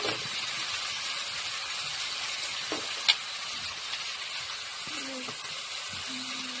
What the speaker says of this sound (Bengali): এবারে আলুটাকে এবার ভালো করে ভেজে নেব